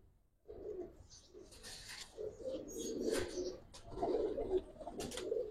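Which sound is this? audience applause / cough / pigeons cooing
pigeons cooing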